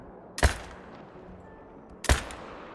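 Two rifle shots ring out about 1.6 seconds apart, each a sharp loud crack with a short tail, fired while deer hunting in a video game.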